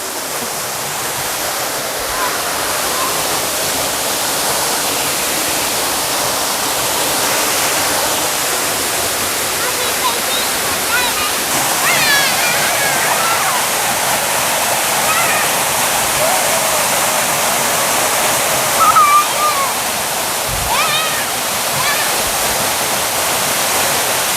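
The Moonlight Waterfall in Thailand, water plunging down into a rock hole, gives a steady broadband roar of falling water that fills the whole stretch, with faint voices mixed under it.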